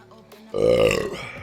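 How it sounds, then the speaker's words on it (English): A single long, loud, guttural burp erupts after a brief quiet moment, up close to the microphone, from someone who has just been drinking a fizzy cola. "Thank God I didn't record that burp over stream."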